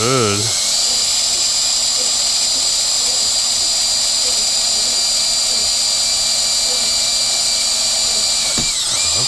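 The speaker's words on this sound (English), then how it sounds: "I'm gonna have to die grind that rivet still" A die grinder runs continuously at a loud, steady high-pitched whine, grinding through a rivet on an XR80 motorcycle petcock, holding its pitch throughout with a brief dip near the end.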